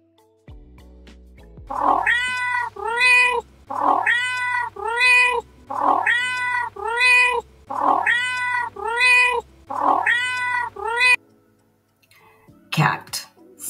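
A cat meows loudly and repeatedly, seven drawn-out meows in an even rhythm, each followed by a short pause.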